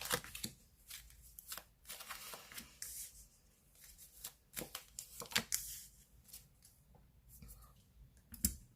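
Tarot cards being shuffled for a reading, a run of quick papery riffles and soft flicks spread over several seconds, close and fairly quiet, with no talking.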